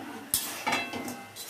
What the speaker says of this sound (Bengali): এইবার আবার নাড়তে হবে।